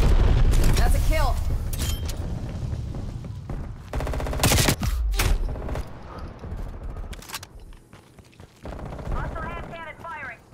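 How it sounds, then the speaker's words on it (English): Hand cannon shots in Call of Duty: Black Ops Cold War, several loud sharp reports amid game noise, with voices talking over parts of it. "Hostile hand cannon firing."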